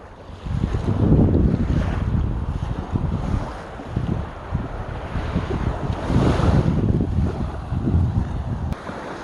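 Surf washes steadily onto a beach at Chałupy on the Hel Peninsula, with gusting wind buffeting the microphone during a walk along the shore. The swells rise and fall continuously, close and fairly loud, and no one speaks.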